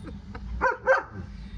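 A puppy gives two quick, close yips in a quiet indoor room, with faint background noise around them.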